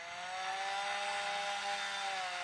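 Butcher's chainsaw in the video game Clone Armies, a steady, loud droning buzz that holds constant for a couple of seconds with a smooth, engine-like tone.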